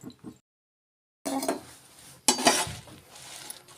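Ingredients for chutney crackle and rustle as they dry-roast in a pan, coming in bursts of crisp sizzling with scraping stirs, close and fairly loud after a silent gap.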